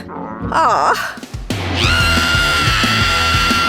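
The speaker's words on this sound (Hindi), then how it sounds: "इसे कौन चिल्ला रहा है?" A person screaming, a short rising and falling shriek, then after a brief gap a long, loud, sustained scream that holds steady.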